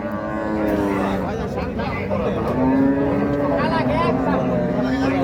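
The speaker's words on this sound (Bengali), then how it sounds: "এই যে বেচা গরু এই সাইডে আর যেগুলো বেচা হয় নাই সেগুলো হলো এই সাইডে" Cattle moo repeatedly, overlapping in a loud, crowded scene, with people talking and general market commotion throughout.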